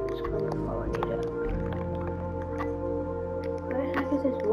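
Water dripping in a lush cave in Minecraft, with scattered soft drips over a steady tonal background.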